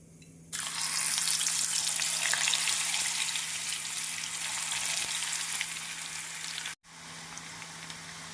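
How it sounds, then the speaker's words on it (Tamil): Raw banana slices drop into hot oil and deep fry with a sudden loud, steady hiss and crackle that fills the space. It holds for several seconds, cuts out abruptly and then resumes more quietly, close and with no voices. "நம் வாழைக்காயை நன்றாக இழைத்து எண்ணெயில் பொறித்து விடலாம்"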